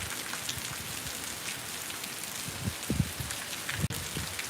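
Steady rain hisses evenly throughout, with a few soft low thuds of drops hitting a surface nearby; no voices.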